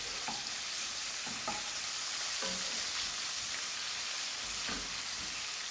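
Onion, green pepper and tomatoes frying in a kadai for kadai prawns, a steady broad sizzle with occasional stirring scrapes and clinks of a utensil against the pan, close and continuous.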